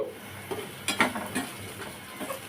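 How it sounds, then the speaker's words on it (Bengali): Sliced green chilies and chopped onion fry in oil, a low sizzle broken by scraping and clattering of a utensil stirring them in the pan. "কাঁচামরিচ ফালি কয়েক টুকরো দিয়ে দিচ্ছি দিয়ে এবার তেলের উপরে ভালো করে ভেজে নিচ্ছি"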